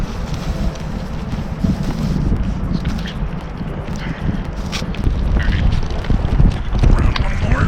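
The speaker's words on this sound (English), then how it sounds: "A little windy." Wind blows at an outdoor winter bushcraft camp, a steady low rumbling buffet against the microphone with scattered rustles and knocks, growing slightly stronger toward the end.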